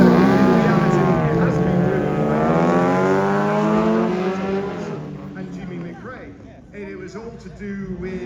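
A rally car engine at the Silverstone Festival revs hard with a rising, sweeping harmonic whine for about five seconds, then fades and drops away into quieter, rougher engine and background noise.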